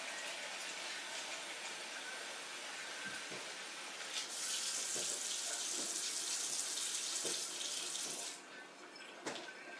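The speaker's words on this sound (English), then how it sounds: "it's time to wash this thing, it's easier to wash than to try and chisel the dried egg off of there" Water runs steadily from a kitchen tap as a pan crusted with dried egg is washed, a constant rushing splash that swells louder midway, then eases near the end.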